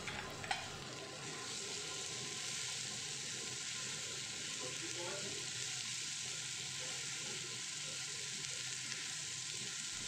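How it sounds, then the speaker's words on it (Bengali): Long potato strips sauté with spices and a green chilli in a pan, giving a steady, gentle sizzle with occasional soft stirring scrapes throughout. "আলু ভালো করে মশলার সাথে সাঁতলে নিচ্ছি।"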